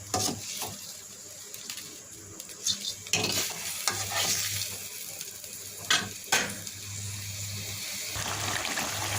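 Fried parshe fish simmering in onion masala in a wok, with a steady sizzle and bubbling broken by scattered stirring scrapes throughout.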